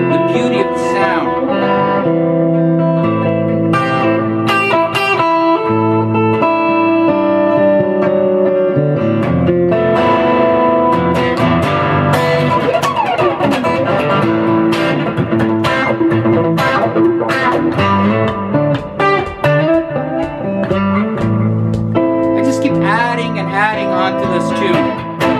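Electric guitar, a handmade Gibson SG-style guitar, with a heavy, distorted, effects-laden tone plays sustained chords and melodic lines, loud and continuous, with no talking.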